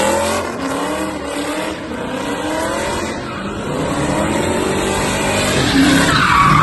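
A car spins donuts, its tires squealing and skidding continuously under a revving engine, loud and close, with wavering pitch as it circles.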